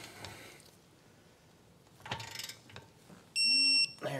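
A torque wrench ratchets and clicks while tightening brake caliper bolts on a 2006-2011 BMW 3 Series. Scattered metallic clicks and scraping are followed by a loud, steady electronic beep lasting about half a second.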